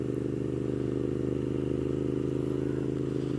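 A Moto Guzzi V7 mk2 750cc motorcycle engine runs steadily with a deep, low rumble, a continuous close-up drone with no speech over it.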